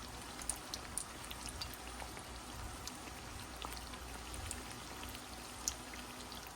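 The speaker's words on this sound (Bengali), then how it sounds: "এই যে দেখুন আমার কামরাঙ্গা পিঠাটা ভাজা হচ্ছে" Kamranga pitha frying in oil, a faint, soft bubbling sizzle with occasional small pops and spatters, quiet and steady throughout.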